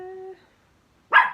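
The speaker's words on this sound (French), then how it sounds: "Excusez-moi pour mon petit chien qui jappe." A small dog barks once, a single sharp close yip that follows a short tonal whine and a moment of silence.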